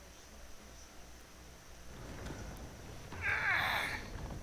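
A cat meows in the World War I video game 11:11 Memories Retold, a single drawn-out, rising mew heard fairly close over a low background hiss and rustle of ambient game noise, with no speech.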